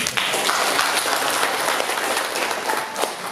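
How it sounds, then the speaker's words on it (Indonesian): Applause from the audience at a PGRI Jember teachers' conference, a dense, steady wash of many hands clapping, loud and close, holding throughout the clip. "tepuk tangan"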